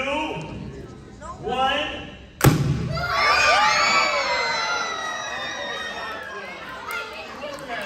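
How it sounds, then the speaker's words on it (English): A hairspray cannon fires a sudden loud blast after a few seconds of chatter at an elementary school science show, followed by a crowd of children cheering and shouting. "The hairspray cannon."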